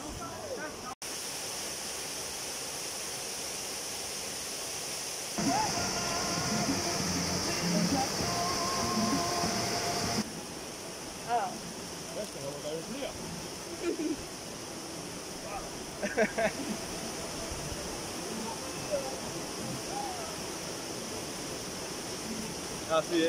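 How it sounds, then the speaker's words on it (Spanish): Waterfalls pour into a deep natural pool in Panama, a continuous rushing roar that shifts and grows louder partway through, with brief scattered voices and clicks over it. "En la poza Romeo y Julieta usted se encontrará con dos cascadas con muy buena profundidad"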